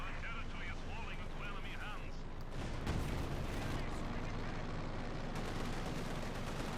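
Tank cannon fire in Company of Heroes 2, a Panther's high-velocity gun among the battle sounds: booming blasts and rumbling explosions in a dense, loud barrage, with a commentator talking early on.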